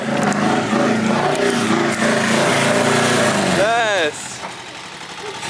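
A Toyota Corolla drift car's engine runs loudly and steadily close by, then drops to a quieter idle near the end, with a brief spoken word over it.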